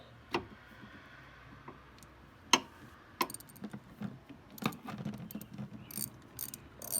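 A socket wrench ratchets on the wiper arm nut of a Volvo XC40, giving a handful of sparse, close metallic clicks and short ratcheting bursts in a quiet setting.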